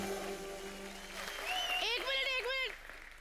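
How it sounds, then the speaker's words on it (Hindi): A studio audience at a televised comedy show breaks into loud, sustained applause, with music underneath. "जोरदार तालियां हो जाए"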